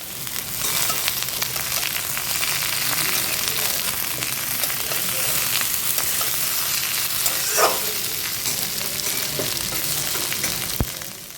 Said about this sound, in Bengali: সব কিছুই কড়ার মধ্যে আমি দিয়ে দিচ্ছি। দিয়ে ভালো করে এবার একটু মিশিয়ে নেব।